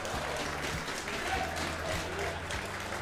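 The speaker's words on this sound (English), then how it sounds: "You can hear the crowd chanting. They are making a ton of noise for Robin." Large crowd at the CTWC DAS 2025 Classic Tetris World Championship roaring, cheering and chanting, a dense continuous wall of noise with a few sharp claps and shouts throughout.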